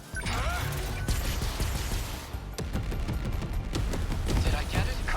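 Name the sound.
long range missiles firing in video game 13 Sentinels: Aegis Rim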